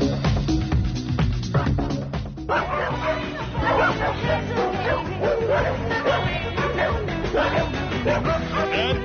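Several dogs bark and yip repeatedly in quick bursts, some whimpering between barks, with people talking in the background, in the Maldives.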